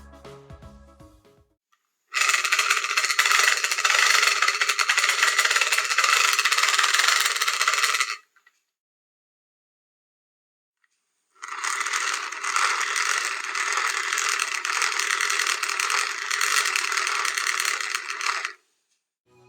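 Repaired BBQ fan running in two loud bursts of steady, whirring mechanical rattle, about six to seven seconds each, separated by a few seconds of silence, with no talk.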